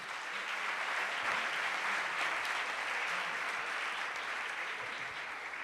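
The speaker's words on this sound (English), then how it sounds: "Can we have a round of applause for all our 6 teams?" An audience at a science quiz final in a campus auditorium applauds the six competing teams, sustained, even clapping throughout with no voices breaking through.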